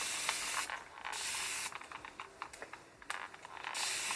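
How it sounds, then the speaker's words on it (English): Several quick hissing spritzes from a spray bottle, close up, in short bursts separated by brief pauses. "So I'm just gonna spray some water"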